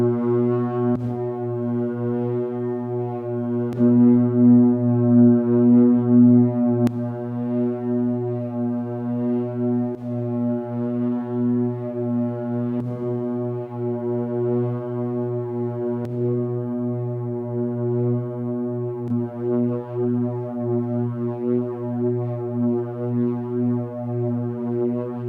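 A Stylophone CPM DS-2 synthesizer holds a steady, deep drone in mono through different reverb algorithms, with a low buzzy tone and faint clicks at each switch, running evenly for about twenty-five seconds.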